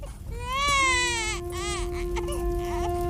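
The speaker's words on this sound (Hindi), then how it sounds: "मुझे छोटे बच्चे की रोने की आवाज सुनाई दे रही है।" A small baby cries in a cartoon, a rising wail that breaks into a second sustained whimpering cry, close and loud over faint background noise.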